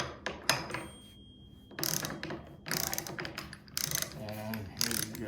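A Milwaukee 3-in-1 lineman's high leverage ratcheting wrench ratchets in several close, crisp bursts of rapid clicking separated by short pauses.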